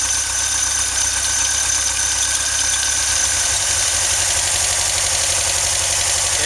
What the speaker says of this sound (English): I just started the van.